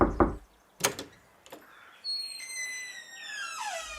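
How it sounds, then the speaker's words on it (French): Firefighters knock on the front door of a house on Wimbledon Park Road, London: a quick cluster of firm raps, then two more spaced knocks, followed by a rising, whistling tone near the end. "Les pompiers frappent à la porte du 164 Wimbledon Park Road."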